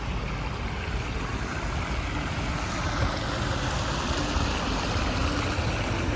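An outdoor fountain splashes in a loud, unbroken, broadband rush of falling water that stays steady throughout, with no voices.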